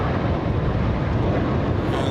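A JetBlue airliner taxiing at Los Angeles International Airport fills the moment with a continuous low, broadband jet engine rumble, steady and moderately loud, with no voices.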